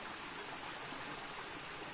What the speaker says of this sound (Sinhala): ලස්සන වතුර පාරක්.